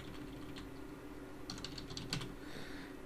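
Keys tap on a computer keyboard during 3D software work: a short, quiet burst of quick keystrokes in the middle, with a low room hum underneath and no speech.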